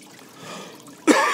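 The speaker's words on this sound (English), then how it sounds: "Pardon my cough." A single sharp cough bursts out near the end, outdoors in nasty weather while fishing for white perch and crappie, after a quiet, faintly watery stretch.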